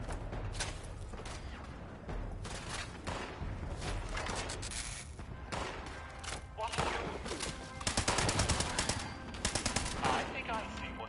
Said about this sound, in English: Further where the shooting is.